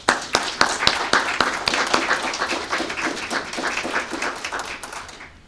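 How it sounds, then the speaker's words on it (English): Audience applause at a high school graduation ceremony, a dense burst of clapping that starts strong and slowly thins out over several seconds, with a few sharp individual claps standing out near the front. "give you a round of applause"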